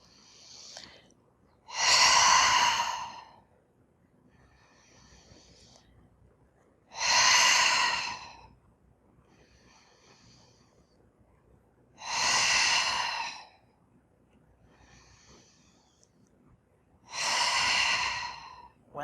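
Slow, deep breaths during a yoga stretching session: four long, loud breaths spaced about five seconds apart, each rising and falling smoothly, with near silence between them.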